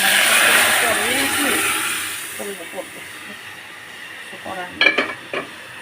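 Onion tempering for dal sizzles in hot oil with a loud, steady hiss that fades over the first couple of seconds. A few clattering knocks follow, and a voice is heard near the end.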